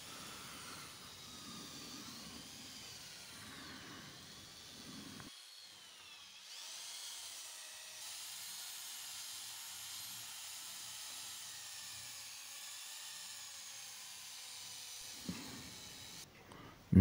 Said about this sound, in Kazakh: Осылай сол жерлерін онда арнайы жіңішке бұрғыменен шұрыптың орнын тесіп дайындап аламыз.